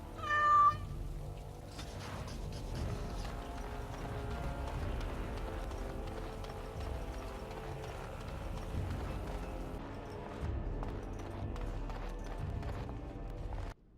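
A cat meows once, briefly and clearly, at the start in the video game Dragon Age: Origins - Awakening, then hoof clip-clop and steady game ambience carry on for the rest.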